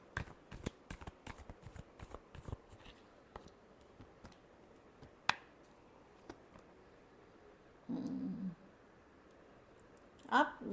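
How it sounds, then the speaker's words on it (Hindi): Tarot cards are shuffled by hand in a run of quick crisp riffles and taps, near and fairly quiet, with a short louder flutter of cards near the end. "Last shuffle."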